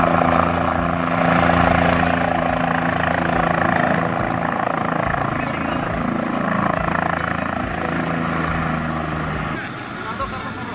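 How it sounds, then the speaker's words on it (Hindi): A helicopter bringing a bride and groom to a wedding, its steady rotor and engine drone loud and continuous throughout, with faint crowd voices mixed underneath. "इलाके के लोग हेलीकॉप्टर को देखने के लिए पहुंच गए।"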